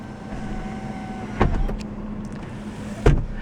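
The power sliding sunroof of a 2018 Toyota RAV4 Hybrid closes with a faint motor whir inside the cabin, marked by two distinct thumps as it starts and latches shut.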